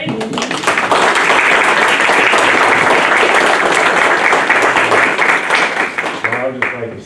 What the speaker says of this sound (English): I think we need one more round of applause for everybody.